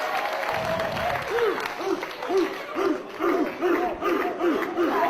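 Wrestling fans at an FWA Crunch 2006 show chant and cheer in a rhythmic, rising-and-falling crowd roar for Darren Burridge, with a commentator talking over it.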